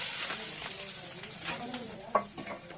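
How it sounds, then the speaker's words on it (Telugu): Cooked rice tempering in hot oil with mustard seeds, green chillies and onions gives a soft continuous sizzle, broken by light stirring scrapes and one sharp clack near the end. "ఇక ఇప్పుడైతే అన్నం తాలింపు వేస్తాను"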